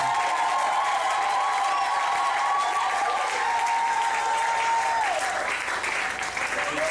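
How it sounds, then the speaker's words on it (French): A church congregation applauds and cheers during a sermon, sustained loud clapping with a sung or held voiced tone running across it, the crowd noise steady from start to finish. "Est-ce qu'on peut manifester la joie par des acclamations?"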